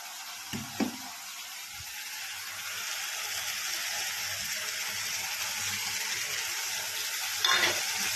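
Water poured into a pan of frying turmeric, red chili, Kashmiri chili, cumin and coriander powders for egg curry sets off a steady, broad hiss of sizzling that swells and holds, with a few soft clinks of stirring.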